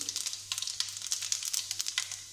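Cumin seeds fry in hot oil, giving a quiet, steady sizzle dotted with rapid sharp crackles and pops, heard up close and alone.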